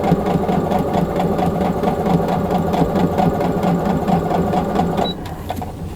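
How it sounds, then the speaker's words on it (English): A sewing machine fitted with a quarter-inch quilting foot stitches a quilt block, giving a steady close mechanical whirring hum that runs for about five seconds and then stops. "So we're going to go ahead and sew this side really quick."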